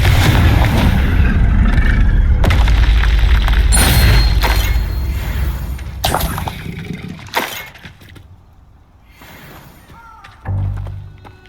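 Repeated fiery spell blasts from Hogwarts Legacy gameplay, loud booming explosions with shattering, glassy crashes and debris, several bursts in quick succession fading toward a final thump.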